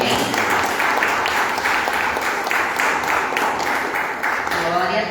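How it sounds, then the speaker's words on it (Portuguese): A church congregation applauds, many hands clapping in a brisk, fairly loud burst that carries on steadily, with voices mixed in underneath. "Dê uma salva de palmas para o Senhor"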